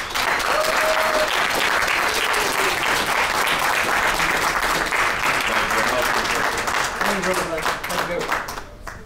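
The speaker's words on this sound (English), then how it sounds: "So everybody give Lee a round of applause." An audience at a political convention talk claps and applauds steadily and loudly, a dense wash of hands that fades slightly near the end, with a few voices mixed in.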